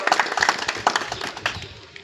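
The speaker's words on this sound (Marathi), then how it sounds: "एकदा सर्वांनी आपण टाळ्या वाजवून मनोहरदादांचं अभिनंदन करावं" A crowd at a village ceremony dedicating a Vaikuntha funeral chariot in Khambale claps to congratulate Manohardada, a brief patter of applause from many hands at close range.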